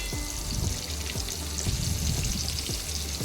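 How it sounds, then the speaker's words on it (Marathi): Masala-coated pomfret fish fries on a hot tawa, a continuous close sizzle with scattered crackles and pops throughout. "आता आपण हा पापलेट पलटी करणार आहोत एक दोन मिनिट हा फ्राय करून घेऊ"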